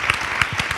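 Short burst of applause for dolçaina players at an interview event, with a few audible individual claps standing out in a brief, moderately loud patter.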